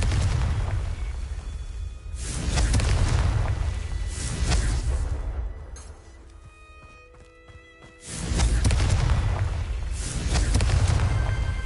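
Confringo fire-spell blasts in the Hogwarts Legacy video game come as two heavy rumbling booms. Each rolls for a few seconds, separated by a quieter stretch with faint tonal game sounds.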